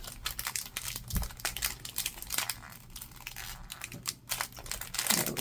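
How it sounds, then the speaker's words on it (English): Stickers are ripped to open a mail package, giving a run of crisp paper tearing and crinkling sounds in short irregular bursts, close and fairly quiet, with no talking. "I always hate to rip the stickers"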